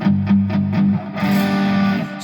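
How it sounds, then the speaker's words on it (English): Electric guitar chords played clean-toned but driven through an overdrive pedal, several short strummed hits at first, then a sustained ringing chord, close and fairly loud with no talking. "that's just the overdrive pedal on there"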